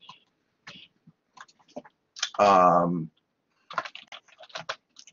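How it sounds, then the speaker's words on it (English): Computer keyboard typing a poll question into Blackboard Collaborate Ultra, heard as scattered bursts of light key clicks, broken by a short voiced sound in the middle. "you guys will be able to type in the question"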